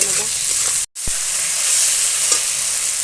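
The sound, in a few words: spice paste frying in a pan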